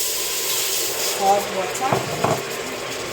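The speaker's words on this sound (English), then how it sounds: "it's sizzling like that" A cup of hot water poured into a pot on a hot stove, cooking pumpkin leaves, sizzles with a soft, steady hiss under a brief word from a nearby voice.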